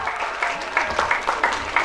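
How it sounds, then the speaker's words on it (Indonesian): An audience claps at a pesantren santri art-stage performance, giving moderate, uneven applause throughout with faint voices mixed in. "Mana tepuk tangannya?"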